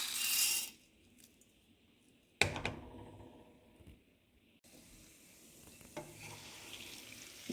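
Seeds hit hot oil in a pan for taro root fry, a short burst of crackling and sizzling followed by quieter spitting, a sharp clatter and soft stirring noises close by.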